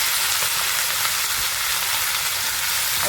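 Chillies and fenugreek leaves sauté in a pan with a dense, even sizzle that holds loud and close for the whole stretch, with no talking.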